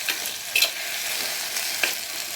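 Sliced bitter gourd sautéing in hot oil for a Tamil pitlai, a close, steady sizzle broken by a few sharper crackles and pops as the pieces are stirred, with no voices.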